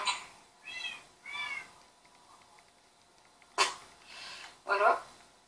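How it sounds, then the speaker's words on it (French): A cat meows in the Minecraft video game, several short, fairly quiet mews spaced across the stretch, with a sharper burst near the end and faint background noise between them. "Je vais vous faire montrer mon chat."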